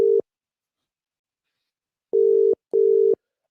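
A phone call ringing tone: a clean, steady electronic beep that cuts off, then returns after a long pause as two short pulses in quick succession.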